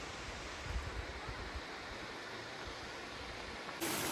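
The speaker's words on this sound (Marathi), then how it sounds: "छोटासाच वॉटरफॉल आहे, पण खूप सुंदर वॉटरफॉल आहे हा" Steady, dense rush of a small snowmelt waterfall near the Big Four Ice Caves in Washington, a continuous broadband roar with no voices, cutting off abruptly near the end.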